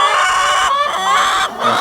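Chickens cluck loudly and continuously up close, with a rooster's crow ringing out among them.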